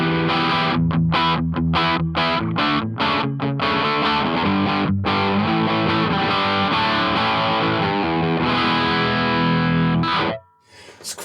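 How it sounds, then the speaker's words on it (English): An electric guitar played through a REVV D20 amp on an overdrive channel with reverb off, a loud, gritty distorted riff with rhythmic chopped stabs before sustained chords ring out and cut off near the end. "It's a unique sounding drive."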